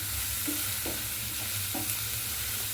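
Oil sizzles steadily in a pan as mutton curry ingredients are fried, with a few distinct scraping stirs of a spoon against the pan cutting through the constant hiss.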